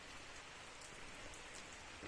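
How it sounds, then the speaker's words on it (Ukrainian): Steady rain pours down outdoors in a yard, a dense even hiss of drops on surfaces with no thunder, continuous and fairly close throughout. "а тут дощ пішов"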